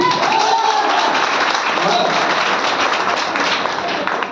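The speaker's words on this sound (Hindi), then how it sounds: "तालियां हो सकती है आप लोगों के लिए।" Audience applause at an MYL lifestyle presentation program in Seoni, a dense, loud, continuous wash of clapping that holds steady the whole time.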